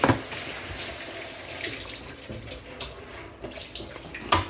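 Water sloshes and sprays steadily inside a portable countertop dishwasher, a continuous hissing wash with small surges and splashes, fairly close and alone.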